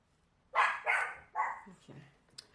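A dog barks indoors, about three sharp barks followed by softer yips and whimpers, fairly close and alone over quiet room tone.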